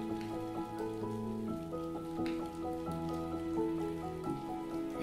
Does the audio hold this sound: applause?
no